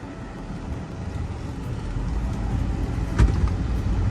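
A 2009 Cadillac Escalade with its Vortec engine accelerating, a steady low rumble that swells gradually louder and throatier, heard from inside the cabin with a brief sharp knock partway through.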